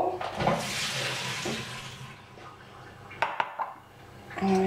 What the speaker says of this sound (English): So I'll just go and drain those and put them in a separate bowl